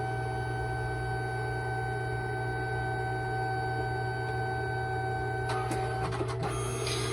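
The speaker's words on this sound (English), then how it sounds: "it's going to laminate over our photos" A LIENE PixCut S1 sticker printer laminating photos gives a steady mechanical whir with constant tonal hum, then a few brief clattering bursts near the end.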